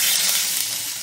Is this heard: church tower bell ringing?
no